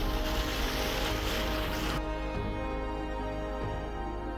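Sailboat moving on open sea near Magnetic Island, motor shut down and sails up; a steady broadband rush of wind and water runs throughout, fairly loud and continuous, with the texture changing and turning less hissy about halfway through.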